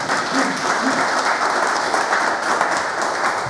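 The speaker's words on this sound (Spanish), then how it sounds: "Un aplauso también para el profesor Carlos Balbuena, por favor." Sustained, dense applause from an audience at a book presentation on the history of the San Martín de Porres district, a steady wash of clapping with no voices over it.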